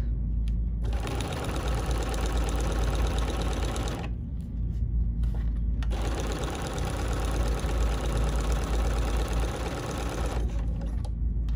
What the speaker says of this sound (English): now I'm just going to stitch to about a 1/4 inch before we end, back tack, and cut